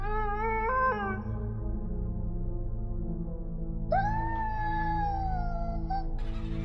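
A dog howls in long, drawn-out wails that slide downward in pitch, heard as separate howls over a continuous low, droning background.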